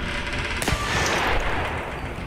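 Automatic ceiling turrets firing in the video game Receiver 2, a sharp gunshot crack followed by a dense rattling burst of fire over steady background noise.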